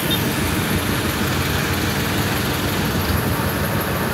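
Road traffic on a busy street in Zapote, Bacoor, heard as a steady, loud wash of passing vehicles and engine rumble with no pauses and no talking.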